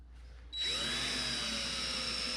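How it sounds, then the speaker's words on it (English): A power drill spins up after a brief pause and runs at a steady high whine, boring a hole for mounting a part on a Kubota RTV500 side-by-side, loud and close. "gonna drill a few holes in this, 3 on each side"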